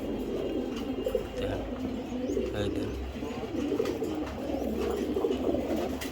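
Giribaj pigeons coo in a low, continuous murmur, several birds close by with soft overlapping calls, while someone talks intermittently over them.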